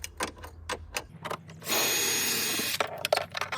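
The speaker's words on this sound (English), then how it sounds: "there's 4 bolts on mine that are holding it in, or lag screws rather. We're gonna get those removed." A power tool whirs in one steady burst of about a second, with shorter mechanical clicks and whirs before and after it, as lag screws are backed out of a backyard above-ground pool setup.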